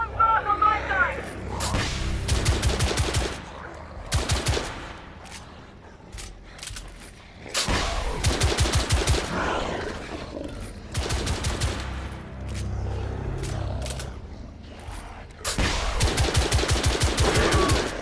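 Automatic gunfire bursts from the shooter game The Order 1886, loud and close, coming in repeated rapid volleys with short pauses between them over a low rumbling backdrop.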